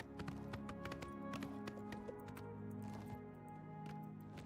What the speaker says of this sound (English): Prior Maberell's paint horse